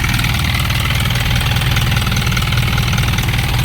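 Isuzu Elf 4HG1 diesel engine in a 4.2-ton Japan-surplus truck with a fully manual injection pump, idling steadily close by with a constant low rumble and fast even knock, no talk over it.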